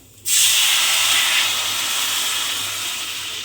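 Water hits a hot pan of fried spices and okra dal, bursting into a loud, steady sizzling hiss that starts abruptly and slowly eases while staying strong, with no talking.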